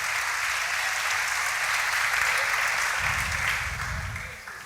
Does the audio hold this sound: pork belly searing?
no